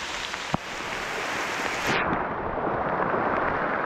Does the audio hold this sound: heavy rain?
yes